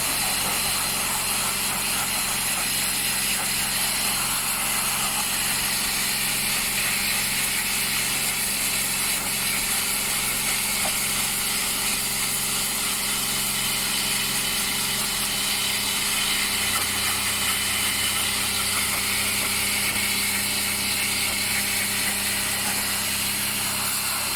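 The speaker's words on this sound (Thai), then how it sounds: "ฉีดล้างทำความสะอาดตู้แอร์ตู้หลังของรถตู้นะคะ" Steady pressurized spray hisses against the rear air-conditioner evaporator of a Toyota van, with an engine or pump droning underneath; the low drone shifts partway through while the broadband wash continues.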